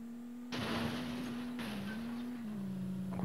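Video game racing car, a white stunt car on ramps, firing a nitro boost: a sudden loud whooshing roar cuts in over a steady engine drone and holds at high speed, with a second surge partway through.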